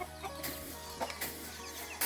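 Free-range chickens on a rural family farm cluck in short, repeated bursts over a steady background hum, fairly close and with no talking.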